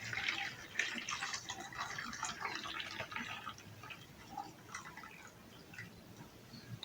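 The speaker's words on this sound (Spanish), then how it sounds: "vamos a ir agregando el agua" Hot water poured into a container around a bag, a steady splashing, trickling pour that is loudest at the start and then eases into a softer, continuing flow with scattered drips, close by and with no talk over it.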